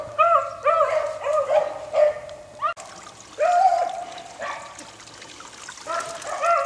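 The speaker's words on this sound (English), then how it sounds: "11-year-old dog, running her own rabbit" Hunting dogs bay in a repeated, overlapping chorus while chasing rabbits in the field, among them an 11-year-old hound running her own rabbit; the howls are moderately close, with some faint trickling water underneath.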